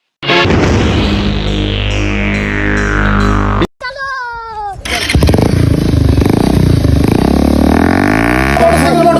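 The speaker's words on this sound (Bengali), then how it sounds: "আমার মোটরসাইকেল গেল" A motorcycle engine runs loud and steady, cuts out briefly, then roars back up and pulls away, with a short burst of voices in the gap.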